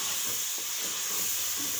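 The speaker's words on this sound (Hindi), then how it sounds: "ये देखिए कि टमाटरों की जो है वो भुनाई होना शुरू हो चुकी है" Tomatoes frying with ginger garlic paste in a pan give a steady, close hiss and sizzle throughout, with faint soft stirring underneath and no voices.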